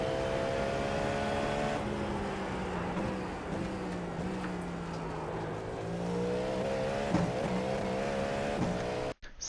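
A GTP prototype race car in iRacing at full speed, steady high-pitched engine whine holding through a double right-hander at Imola, with slight pitch dips on lifts and a brief drop at the very end.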